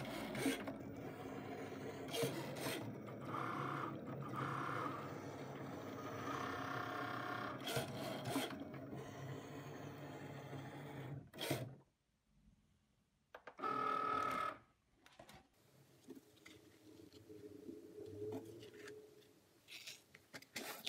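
A Cricut Maker runs its rotary blade through fabric on a cutting mat, giving a quiet mechanical whir with scraping and rubbing passes that stop and start, and a pause near the middle.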